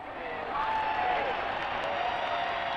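A large crowd outside the Buckingham Palace balcony cheers and applauds on Coronation Day, a dense, sustained roar heard at a distance that swells slightly and holds steady.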